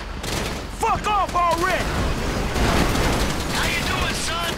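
Grand Theft Auto 5 gunfire crackles in bursts through a busy game scene, with a voice-like swooping sound briefly rising over the shots.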